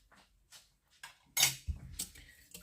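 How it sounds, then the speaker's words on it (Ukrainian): Dough ingredients with kefir being stirred in a bowl, scattered scraping and clinking of a utensil against the bowl, fairly quiet and irregular. "І все просто гарно змішуємо."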